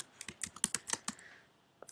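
Computer keyboard typing, a quick run of sharp, close key clicks in an uneven rhythm, pausing briefly before a couple more taps at the end; no talking.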